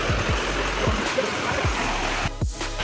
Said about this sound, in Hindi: हमारे पीछे झरना है